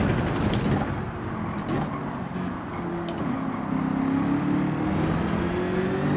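A race car laps a track in the video game Gran Turismo 7, its engine roaring loud and continuous. Revs climb steadily through a gear, then rise again, with no talking over it.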